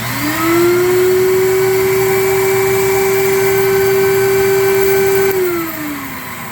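Record cleaning machine vacuums a new vinyl LP, a steady loud motorized whine with a rising start and a falling wind-down near the end, heard alone.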